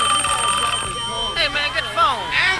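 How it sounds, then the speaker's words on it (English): A telephone ringtone rings in a repeating electronic warble, fairly loud and continuous, with a voice talking over it. "Hey man, get the phone. Answer the phone!"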